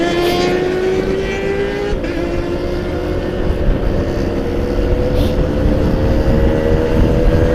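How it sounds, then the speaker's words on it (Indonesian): A two-stroke motorbike on a mountain road near the Bedugul summit in Bali gives a loud, buzzing engine drone that holds steady and swells slightly throughout, mixed with wind rush and no talk. "Tadi ada sebuah motor 2 tak ya yang lewat di depan kita"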